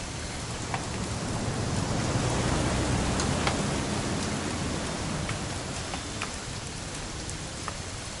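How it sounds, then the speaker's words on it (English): Steady rain in the video game What Remains of Edith Finch, a soft, even hiss of falling drops on surfaces with faint scattered patters, continuous and without speech. "It's gonna rain the whole weekend, isn't it?"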